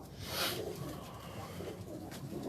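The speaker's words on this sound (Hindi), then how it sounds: "ये टाली वाला दूसरा कबूतर है जी।" Pigeon cooing from a second tiled pigeon on a rooftop loft, a soft low murmur rising early then continuing faintly against a steady outdoor background hiss.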